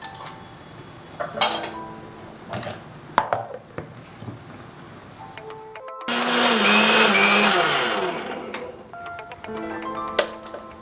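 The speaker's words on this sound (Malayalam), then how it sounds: "മിക്സിയുടെ ബൗളിലോട്ട് 1/2 കപ്പ് പഞ്ചസാര, പിന്നെ ഈ സ്പൈസസും കൂടെ ഇട്ട് പൊടിക്കും." An electric mixer grinder whirs loudly for about three seconds as it powders half a cup of sugar with spices for a plum cake, preceded by clinks of jars, spoons and dishes in a home kitchen.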